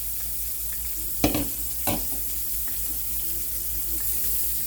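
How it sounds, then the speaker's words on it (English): Flounder fillets fry in a pan with a steady, fairly loud sizzle, broken by two sharp clattering knocks near the start, and the sizzle carries on alone to the end. "got it over there and it's frying up pretty good"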